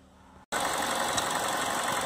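A Ford Escape engine is idling during a coolant replacement. After a brief quiet moment and a sharp cut, a steady, close mechanical idle with a faint knocking texture runs evenly to the end.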